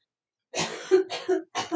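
A woman coughs in a short burst of three harsh, throaty coughs, close and fairly loud, with a touch of throat clearing between them in an otherwise quiet room.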